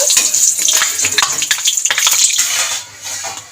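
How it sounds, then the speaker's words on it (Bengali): Green chillies hit hot oil in a wok, setting off a loud, close, crackling sizzle with sharp spitting pops that eases toward a quieter hiss near the end. "তেল গরম হয়ে গেছে প্রথমে লঙ্কাটাকে ভেজে নেব"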